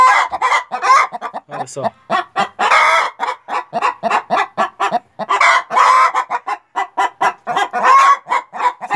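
Hens clucking and cackling loudly in a henhouse in the morning, rapid repeated bursts of close calls celebrating a laid egg, with a brief spoken remark.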